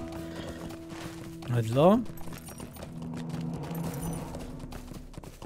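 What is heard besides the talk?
horse hooves clip-clopping in Lord of the Rings Online video game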